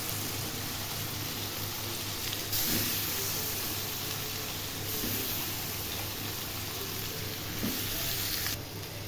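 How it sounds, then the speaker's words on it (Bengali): Brinjal and potatoes with spices sautéing in a pan produce a loud, dense, steady hiss of sizzling oil, close and unbroken, with faint stirring knocks and no voices. "এখন এর মধ্যে বেগুনগুলো দিয়ে দেব কষানোর জন্য।"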